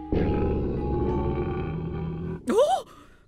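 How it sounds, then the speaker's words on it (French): A lion roars from an animal documentary playing on a television, a long, deep, sustained growl that ends in a short, rising tonal burst, with no speech over it. "Ne me dites pas que vous avez un lion à la maison."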